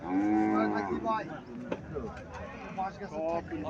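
A Haryana cow lets out a long, loud moo up close, then a second lower moo, while a person talks over and between the calls.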